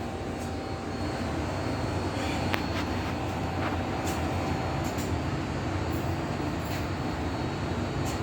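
A Mopar 360 LA V8 with a suspected vacuum leak, running roughly and struggling to idle, a steady low rumbling drone with faint clicks on top, heard alone at moderate distance.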